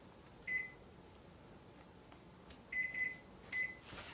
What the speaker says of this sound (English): Let me put this timer on again.